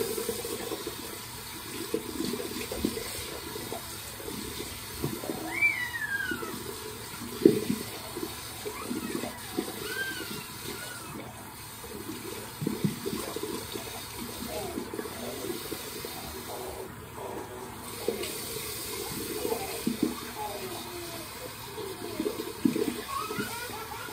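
Tap water runs steadily into a bathroom sink as a beard shaving brush or razor is rinsed, a continuous close splashing hiss with small clinks, no talk.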